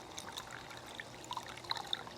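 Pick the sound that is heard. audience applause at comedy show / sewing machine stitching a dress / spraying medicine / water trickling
water trickling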